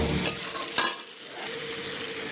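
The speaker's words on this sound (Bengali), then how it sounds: "মাছগুলো দিয়ে আবার কতক্ষণ কষাবো।" Fish pieces being stir-fried in a pan with spices, a close steady sizzle broken by a few sharp stirring scrapes near the start.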